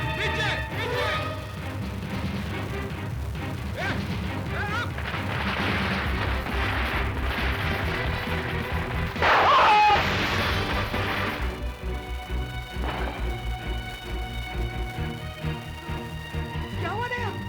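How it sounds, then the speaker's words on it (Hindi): Gunfire erupts in a police crime drama scene, sharp booming reports with one prominent blast midway, mixed with a dramatic music score and shouting voices. "ये गोली चलाई है, एवरीबॉडी डक,"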